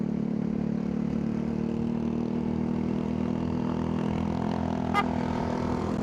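A motorcycle engine idles steadily nearby with a low, even rumble throughout, joined by a brief sharp tick near the end.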